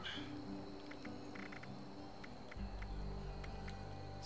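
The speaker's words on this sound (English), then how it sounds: "Science project. Frog in the jar." Frog croaking in a video game, a few soft croaks and chirps over a low ambient hum and a rumbling background bed, fairly quiet throughout.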